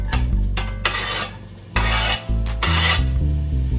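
Chopped onions scraped and stirred around a hot pan for Italian meatballs and rigatoni, giving loud, close rasping strokes in several bursts with a faint sizzle underneath and no talking.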